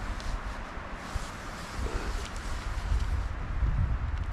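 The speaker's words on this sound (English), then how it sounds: "Still getting to be a little windy still. It's picking up already." Steady wind gusts across a car camp, a broad rushing roar with microphone buffeting that builds slightly toward the end, with no talking.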